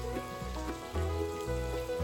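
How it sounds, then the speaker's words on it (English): Steady rain falls on a morning at a ranch, a continuous close patter with scattered heavier drops and low thumps, no voices present. "Well, it is raining."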